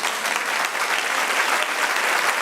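Steady applause from a church congregation, a dense wash of many hands clapping at even loudness throughout the short burst.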